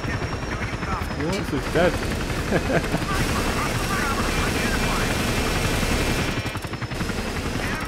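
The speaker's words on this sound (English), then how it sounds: "Chuffing Chopper chasing us" A helicopter chases the players in a video game: a steady rotor drone runs throughout, mixed with bursts of gunfire, while someone talks over it.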